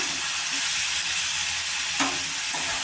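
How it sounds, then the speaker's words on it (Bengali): Chicken and potato curry fries in a pan under a constant hiss and sizzle, broken by a couple of brief spoon scrapes as it is stirred, close and with no talk. "ঢাকনাটাকে আমি তুলে নিলাম, একটু নাড়াচাড়া করছি"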